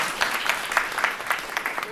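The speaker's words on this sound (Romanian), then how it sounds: "cred că ar fi bine să-i mai dăm un rând de aplauze" An audience claps at a public event in Comănești, a steady dense round of applause with rhythmic peaks, fairly loud and close, filling the short moment without talk.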